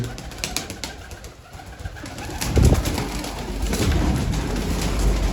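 Pigeons coo softly in low, repeated throaty notes, with rustling and general background noise around them.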